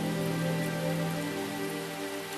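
Rain falls continuously on surfaces as a steady, even patter under a sustained tonal drone, with no voices.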